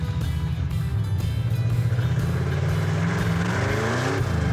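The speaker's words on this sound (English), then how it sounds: "Oh wow, it spun the tires. Or one tire." A car engine revs loud and steady under heavy throttle as one rear tire spins, a continuous roaring drone with a rising tone toward the end and no talk over it.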